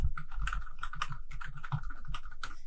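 Keys clatter on a computer keyboard in quick, uneven bursts of close, crisp taps, steady and alone without voices.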